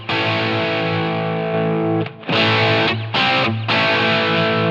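Distorted electric guitar chords through a Line 6 Helix modeler with the compressor off ring out loud and sustained, cut by two short gaps where the strumming stops and restarts; no voices.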